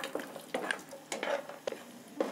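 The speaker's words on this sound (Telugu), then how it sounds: "1/2 కప్పు జీడిపప్పు వేసుకోవాలండి ఇవి కూడా ఈ నెయ్యిలో బాగా వేయించుకోవాలండి" Cashews fry in ghee in a pan, a steady soft sizzle broken by several scraping stirs and light clinks of a spoon against metal, close and fairly quiet.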